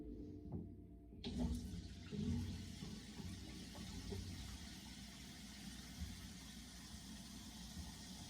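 Water rushes steadily into a toilet tank through a newly replaced fill valve, starting with a click and then a continuous hissing flow close by, with no talking.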